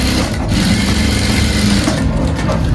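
A sewing machine runs steadily and loudly, stitching a waistcoat, its fast needle rattle continuous throughout with small shifts in speed.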